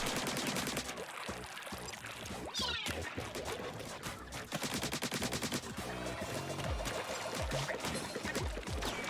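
Ink weapons firing in Splatoon 3, a dense, continuous barrage of rapid shots and splattering bursts mixed with game music and effects, loud throughout with no talking.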